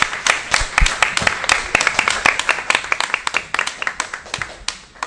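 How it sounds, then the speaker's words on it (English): A small audience at a school board meeting claps, a sparse scatter of distinct individual hand claps in an uneven rhythm, fairly close, with a voice briefly heard alongside. "clap it up for them."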